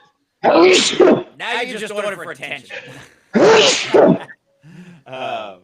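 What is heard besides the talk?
sneeze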